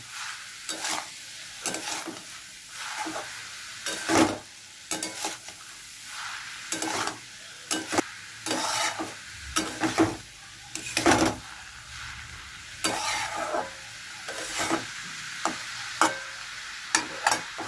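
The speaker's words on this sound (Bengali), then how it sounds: "এটাকে নেড়ে হলুদ আর নুনের সঙ্গে একসঙ্গে মিশিয়ে নেব" Hilsa fish head stirred with turmeric and salt in a pan, repeated scraping and clattering strokes of a utensil in an uneven rhythm over a faint background sizzle, close and without speech.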